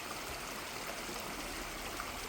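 A forest stream swollen after rain rushes in a steady, dense wash of flowing water, continuous and fairly close, with no voices.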